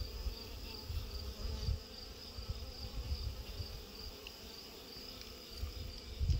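Honey bees buzz steadily while a queen and her attendants are being caged, a soft, continuous insect drone with no voices over it.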